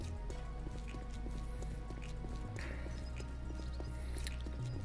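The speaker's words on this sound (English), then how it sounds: "And it's raining on us." Steady rain patters and drips continuously over a low droning background, with faint tonal sounds drifting in and out, in the video game 7 Days to Die.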